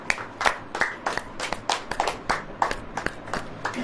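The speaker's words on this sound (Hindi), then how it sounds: "ताली ऐसे बजती है," Hands clap in a steady, repeated rhythm, each sharp clap crisp and close, roughly a dozen beats in a row during a church sermon.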